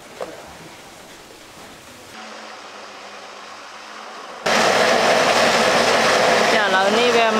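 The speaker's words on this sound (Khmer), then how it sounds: "ឥឡូវសណ្តែកត្រជាក់ហើយខ្ញុំនឹងក្លុកវា" A blender whirs loudly and steadily through cooked, cooled mung beans topped with water, starting after a quieter stretch of background noise and running continuously to the end.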